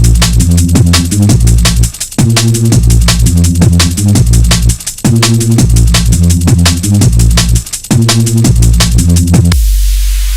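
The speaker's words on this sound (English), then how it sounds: "This is the sound of drum and bass." Loud, dense drum and bass track from the UK underground rave scene: heavy booming bass and rapid chopped breakbeats driving continuously, with a few brief drop-outs, then ending in a noisy wash.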